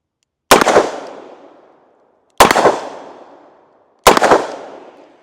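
Three sharp, loud gunshots from a Smith & Wesson Model 19 revolver firing Winchester .357 Magnum rounds, spaced roughly two seconds apart, each followed by a short decaying echo.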